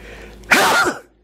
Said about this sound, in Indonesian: bersin lagi